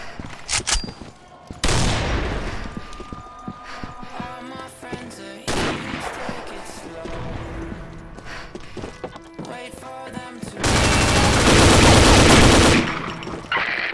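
Rapid bursts of video game gunfire crack loudly and repeatedly, with machine-gun volleys and single shots, brief pauses, and a sustained dense barrage near the end.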